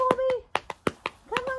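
Sharp hand claps calling a 4-1/2 month old puppy back during retrieve training, several separate claps in an uneven rhythm, close and crisp, with a person speaking around them.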